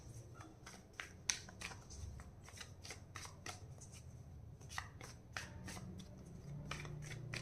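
Tarot cards are shuffled close by in a series of quick, crisp riffles and flicks, with short pauses between bursts and no talking.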